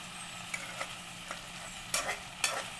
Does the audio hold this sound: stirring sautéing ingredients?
yes